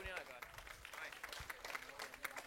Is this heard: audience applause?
yes